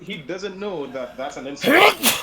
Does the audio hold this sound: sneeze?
yes